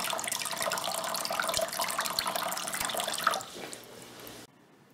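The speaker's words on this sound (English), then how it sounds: "will turn on the pump and show you how it pumps the water" Water circulates and splashes continuously in a hydroponic growing system driven by its pump, a faint trickling wash with small drips that thins out near the end.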